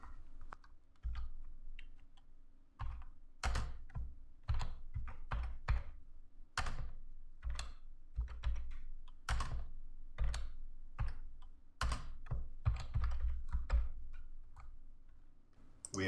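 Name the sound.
typing on a computer keyboard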